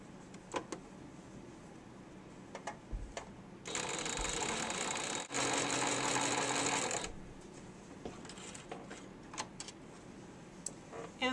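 A sewing machine stitching a quilt block seam runs in one continuous close whirring burst of about three seconds, framed by quieter handling clicks and taps.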